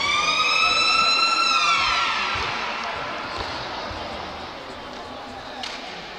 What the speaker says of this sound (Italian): La seconda sirena di questo time out